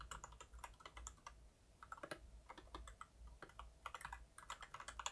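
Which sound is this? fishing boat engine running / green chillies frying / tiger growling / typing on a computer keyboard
typing on a computer keyboard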